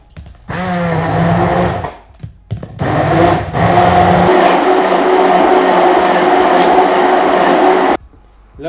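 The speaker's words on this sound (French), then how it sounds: "on sort notre mixeur ou si vous voulez le faire au blender" A hand blender purées raw strawberries: loud, close motor whirring in bursts, a couple of short starts with pauses, then a long sustained run with a deepening pitch before cutting off.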